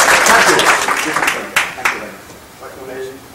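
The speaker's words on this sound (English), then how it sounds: "Did you realize that anybody is clapping right now for you?" Audience applause at a live show, a broad wash of clapping that is loudest at first and gradually thins out, with a few sharper individual claps near the end and some voices mixed in.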